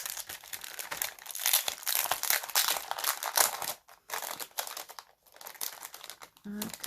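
A pre-made paper chain being pulled out and handled for Christmas card making, giving a loud, close, continuous crinkling and rustling of paper with a few short gaps.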